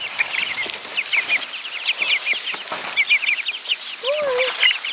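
Chickens clucking and chattering in a barn with straw, a steady run of short repeated calls through the whole stretch, with one louder squawk near the end.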